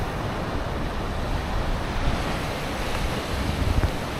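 Steady ocean surf rolling onto a protected sandy beach in Maui, a continuous broad wash of waves mixed with gusty wind noise, fairly close and even throughout, with no voices.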